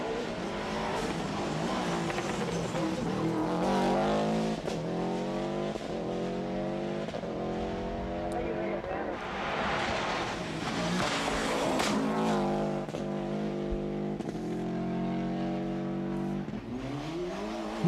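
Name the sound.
Subaru rally car racing through a park stage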